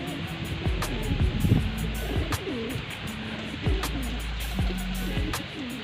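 Pigeons coo repeatedly at close range, soft low rolling calls overlapping one another against a faint outdoor background.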